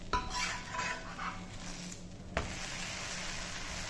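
An oats dosa sizzles on a pan with a steady crackle, interrupted by a spatula scrape and one sharp tap as it is turned over, then the frying continues evenly, quiet and close with no talking.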